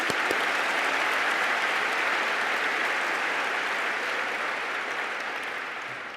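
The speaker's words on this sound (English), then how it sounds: "Let's give another round of applause to Ann." Audience applause at a large Chicago meeting, a steady dense wash of clapping from a full room that holds loud and even, then begins to taper toward the end.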